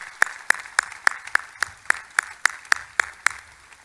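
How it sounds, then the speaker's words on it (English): At a military base redesignation ceremony, sharp claps ring out in a steady, evenly spaced beat, about a dozen in a row, clear and alone with no talk. "Please give them another round of applause."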